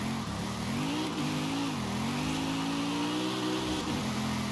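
The engine of a Mercedes-AMG wagon revs continuously in the Forza Horizon 5 racing game, a loud, steady, slightly rough growl that dips and swells with throttle changes.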